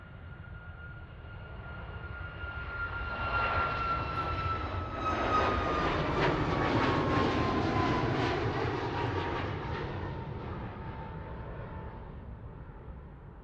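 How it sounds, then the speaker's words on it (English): An Air Canada Rouge Boeing 737 MAX 8 takes off from Anchorage International Airport in Alaska, its jet roar building steadily to a broad, loud peak midway before easing off as it climbs away, with no talk over it. "Air Canada 1766, Anchorage to Vancouver. On the runway. 737 MAX 8. Air Canada Rouge."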